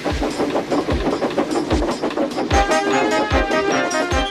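A Capsule Plarail toy train running along its plastic track, a steady close rattling clickety-clack with regular rhythmic clicks and a whirring motor hum.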